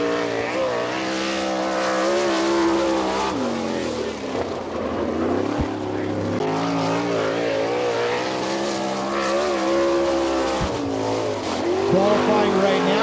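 A sprint car's engine roars around the Attica, Ohio dirt track during a qualifying lap, loud and continuous with rising and falling pitch as it works through the turns, while an announcer talks over it.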